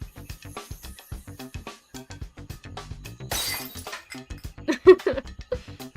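Glass shatters in one brief crash about midway through, mixed into a melodic song that plays throughout with short, rhythmic tonal notes.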